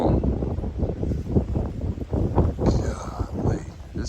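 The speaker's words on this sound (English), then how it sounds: "Now I'm facing the wind this way. It's windy too." Gusty wind buffets the microphone during a snowstorm in New Orleans, loud low rumbling bursts that surge and fade unevenly, with someone talking at times.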